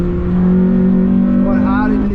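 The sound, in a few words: Honda Civic FN2 Type R accelerating on race track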